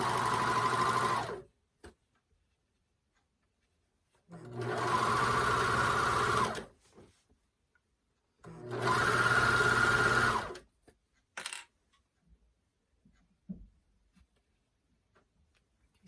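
A sewing machine stitches a seam on the body of a rash guard in three sustained runs of a couple of seconds each, separated by silent pauses and small handling clicks, close and clear.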